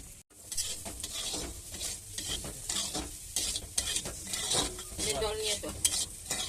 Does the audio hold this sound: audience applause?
no